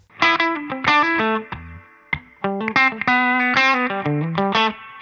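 Electric guitar played through a Crazy Tube Circuits White Whale v2 analog reverb pedal, loud picked notes and chords ringing with reverb tails and a slightly driven tone, no talking.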